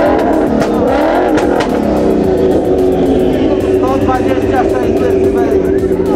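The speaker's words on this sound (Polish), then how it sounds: "Teraz robimy najgłośniejszy wydech." A loud car exhaust roars and revs up and down nearby in a decibel test, with voices faintly audible beneath the engine noise.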